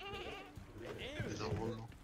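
Sheep bleat in the Lumberhill video game, with several wavering, quavering cries close together. They sit fairly faint beneath ongoing background game sounds and voices.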